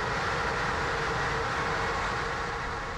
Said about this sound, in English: another one of Romania's many overnight trains pulls in next to us